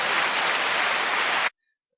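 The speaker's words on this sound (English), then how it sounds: "Where's the applause on this?" Applause sound effect dropped into a podcast conversation: a dense, steady wash of clapping for about a second and a half that cuts off abruptly into silence.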